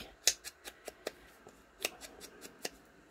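Scissors cut around paper for an Easter scrapbook moodboard, giving a close series of crisp snips in an irregular rhythm with short pauses.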